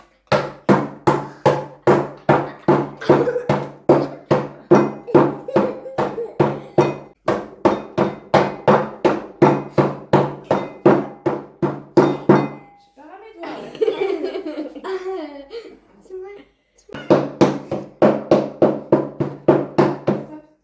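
Rapid, loud hammer blows pound on a table while children and a parent make cookies at home, dozens of evenly paced strikes with a short pause in the middle filled by excited talking and laughter.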